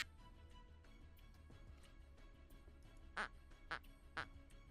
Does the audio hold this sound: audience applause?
no